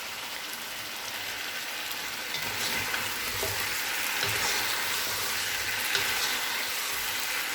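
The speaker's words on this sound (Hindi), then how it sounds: "अब हम इसे 5 से 8 मिनट तक के लिए भून लेंगे।" Mutton pieces frying in a pot for aloo gosht, giving a steady, dense sizzle like light rain that holds evenly throughout, close up, with faint stirring knocks.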